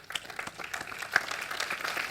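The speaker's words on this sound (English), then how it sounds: "It's getting a slow applause, but it's getting an applause." Slow, sparse clapping rises from a conference audience at a Java developer keynote, a broad hiss of scattered hand claps, moderately loud and fairly steady.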